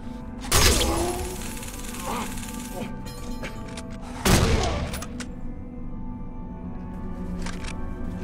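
Gunfire in the video game Condemned comes as two heavy blasts, each with a sharp crack and a rumbling tail, loud and close, amid ongoing game noise and a voice.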